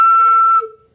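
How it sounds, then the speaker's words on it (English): Flute head joint overblown with too much air gives a harsh, bright tone jumping to a high pitch. It sounds for about half a second, then breaks and fades quickly. "If I overblow, if I use too much air, it's gonna sound like this."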